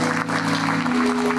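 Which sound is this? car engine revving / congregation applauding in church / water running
congregation applauding in church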